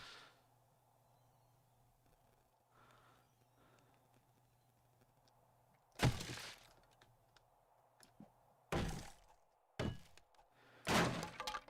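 Blocks break in the zombie game 7 Days to Die with the Ravenhearst mod: several loud, abrupt crunching smashes in irregular bursts over a faint background hum.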